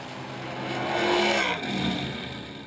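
Engines of a 1959 Corvette and a rival car roar in a drag race, a loud sustained blast swelling over the first second and a half, dipping briefly, then continuing strong.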